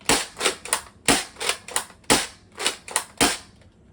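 Adventure Force Nexus Pro X toy blaster fitted with a barrel, firing a rapid series of sharp, snappy shots in irregular bursts, close and loud with no talking.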